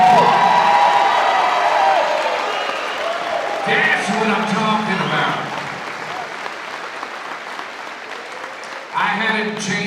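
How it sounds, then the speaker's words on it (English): Gym crowd at a 2024 WIAA girls high school volleyball match applauds and cheers, a broad roar of clapping and whoops that ebbs and swells again near the end, with someone speaking over it. "Give a round of applause."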